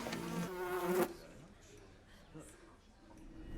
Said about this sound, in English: The buzzing is frightfully loud.